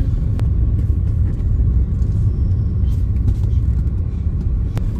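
Dense Saigon traffic jam on a city road from District 7 toward Ben Thanh Market: a steady, loud low rumble of many cars and engines idling and creeping, with a few brief sharper sounds on top.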